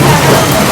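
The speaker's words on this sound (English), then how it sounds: "It's raining like crazy in a food park here in Legazpi." Loud, dense rain pouring down on a food park in Legazpi, Philippines, in a steady wash of noise, close and unbroken for a brief moment.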